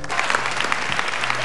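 Concert crowd clapping steadily, a dense, loud wash of applause from a large audience, with no break across the short stretch.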